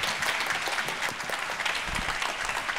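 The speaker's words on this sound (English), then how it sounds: "Ladies and gentlemen, please welcome with a big applause to CEO and Chairman of Boryung, Jay Kim." Audience applause welcomes a company chairman onto stage at a demo day event, a dense, steady clapping from a sizable crowd, sustained throughout with no speech.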